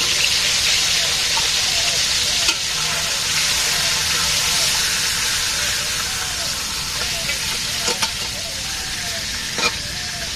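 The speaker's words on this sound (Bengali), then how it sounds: "রান্না শুরু করে দিছি, কড়াইতে তেল দেওয়া হয়েছে।" Fish and onion fry in oil in a wok with a loud, continuous sizzle and crackle, occasional stirring clicks breaking through, and faint background voices.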